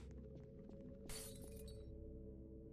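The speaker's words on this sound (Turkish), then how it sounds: "Cam kırıldı." Glass shatters in a video game, a single bright crash breaking out over a steady low game drone and fading over about a second, with no talk during it.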